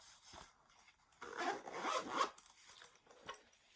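Zipper on the coin pouch of a Vera Bradley wallet, pulled in one rasping run lasting about a second, with quieter fiddling rubs before and after, close and fairly soft.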